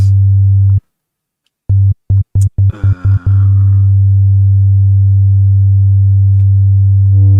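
A steady, loud synth tone from an Ableton oscillator with added third, fifth and seventh harmonics hums buzzily, then cuts out and stutters in a quick series of on-off bursts before holding steady again.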